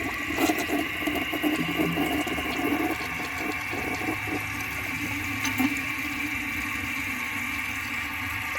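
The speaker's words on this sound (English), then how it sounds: "I'm going to give it another flush once I squeeze the air out of the bag." A 1988 Kilgore Apex toilet flushing with a powerful fill valve, giving a steady rushing, gurgling wash of water that runs for about eight seconds at even loudness, with no talking.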